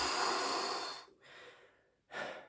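A person sits through a guided breathing exercise and lets out a long, close, steady final exhale that tapers off. A short pause follows, then a brief sharp breath.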